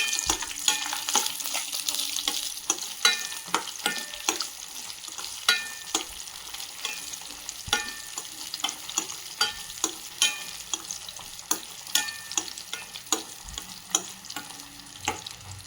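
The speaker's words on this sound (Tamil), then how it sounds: "ஒரு கடாய் வச்சு சூடான நெய்யை ஊற்றி முந்திரி பருப்பு எடுத்து வச்ச முந்திரி பருப்பை வறுத்து எடுத்துக்கணும்" Cashew nuts frying in hot ghee in a kadai, a constant close sizzle broken by a long series of rhythmic spoon scrapes and taps against the pan, with no voice.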